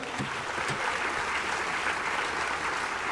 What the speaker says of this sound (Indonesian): Tepuk tangan untuk orang itu